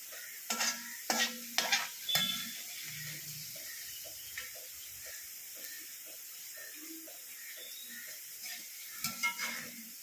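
Upma ingredients being stirred and roasted in a pan: a spoon scrapes and clatters in quick bursts over a steady soft sizzle, close by, with scattered clicks and no talking.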